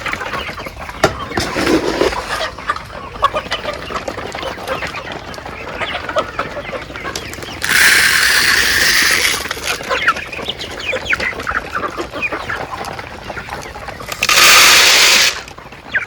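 Chickens clucking and crowing in a poultry farm, a continuous busy flock chatter with two louder bursts of harsh calling or wing noise, close and loud.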